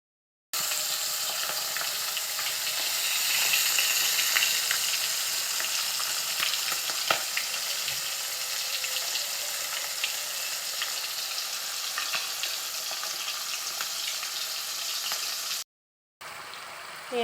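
Hilsa fish frying in hot oil as the pieces are turned, a loud continuous sizzle with bubbling and scraping stir sounds running for most of the span before cutting out briefly near the end.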